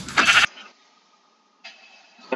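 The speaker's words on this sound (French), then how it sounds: "Regardez-moi ce mouton." A sheep in the video game Minecraft gives a short, loud bleat at the start, followed by near silence with faint game ambience and a brief soft sound near the end.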